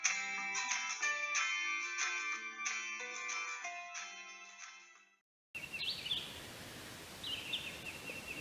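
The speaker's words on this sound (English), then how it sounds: "To hear the wind blowing through the trees, birds singing." Birds chirp and call in short bursts outdoors against a steady rustling breeze, preceded by a stretch of tonal, music-like sound that cuts off abruptly.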